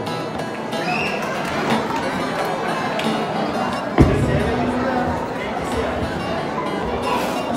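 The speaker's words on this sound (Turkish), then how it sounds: "bir alkış gelir miydi Gelin Hanım ve Damat Bey'e" Wedding guests at an Ankara celebration clap for the bride and groom, a dense, continuous crowd applause with one sharp bang partway through.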